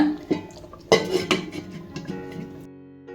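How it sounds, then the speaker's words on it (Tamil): A lid is set onto a cooking pot of wheat rava kichadi, giving a couple of sharp metallic clinks and a brief rattle at close range, followed by a faint simmering hiss. "இப்போ நான் கொஞ்சம் குறைச்சி வச்சு லிட்டு போட்டு மூடிட போகிறேன்"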